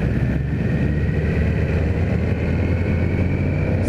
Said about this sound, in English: It's a nice sounding bike for a stock exhaust.